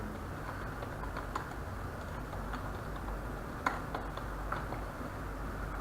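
Typing of an author name on a computer keyboard, heard as sparse, faint key clicks spread irregularly over a quiet background hiss, with a sharper tap at the very end.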